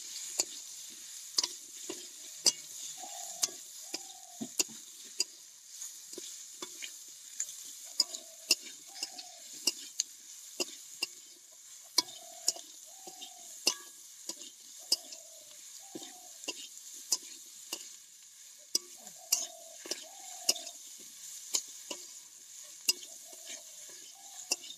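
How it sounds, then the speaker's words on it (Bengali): Fried potatoes and cauliflower are sautéed in spices for pea ghugni, a soft continuous sizzle broken by sharp regular clicks of a spoon against the pan as the mix is stirred, close with no voices. "এবার আমি ভেজে রাখা আলু আর ফুলকপি দিয়ে দিচ্ছি মশলার উপরে।"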